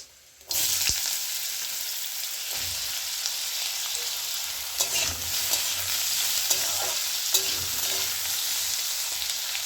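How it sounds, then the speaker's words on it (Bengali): Potatoes hit hot ghee with fried cumin in a pan, bursting into a loud sizzle that keeps hissing steadily, with occasional scrapes and clinks of stirring close up. "জিরাটা ভাজা হয়ে গেছে, আমি আলুগুলো দিয়ে দিচ্ছি।"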